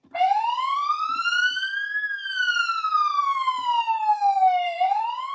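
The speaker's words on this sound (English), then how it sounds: "When you put it in drive, the siren automatically comes on and the wigwags and the headlights flash." A 2025 Ford Police Interceptor Utility K9 unit's siren wailing loudly and close, its pitch sweeping slowly up, then down, then starting to rise again, with no other sounds.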